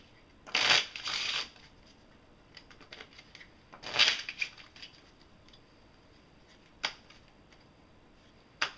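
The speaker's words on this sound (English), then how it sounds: "and then I shuffle the deck" A deck of playing cards being shuffled by hand: two crisp riffling bursts, a pause, another riffle, then a couple of sharp taps as the deck is squared, close and clear with no talking.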